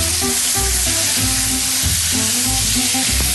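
Meat, peppers and onions frying in a pan and being roughly stirred, a loud, steady sizzle with faint scraping underneath, close up and with no speech.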